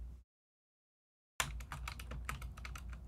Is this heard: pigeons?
no